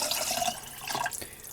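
Beef bone broth spills and splashes while jars are filled, a short burst of close liquid pouring and trickling with a few spattering drops.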